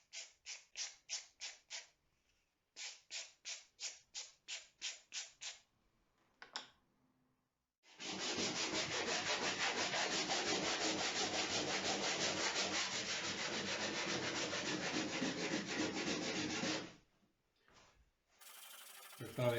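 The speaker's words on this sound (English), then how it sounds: "The amine blush do have a tendency to clog up the sandpaper, but this little wire brush seems to have no trouble cleaning the sandpaper." Sandpaper rubs amine blush off an epoxy-coated boat hull, first in a quick series of short rhythmic strokes, then in a long, steady stretch of close scratchy sanding before it stops.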